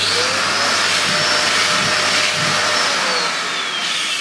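A Sebo K3 Premium cylinder vacuum cleaner runs loud and close with a constant airy whine and roar, its pitch shifting slightly as the nozzle moves, with no voices.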